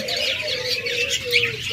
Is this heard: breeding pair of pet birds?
yes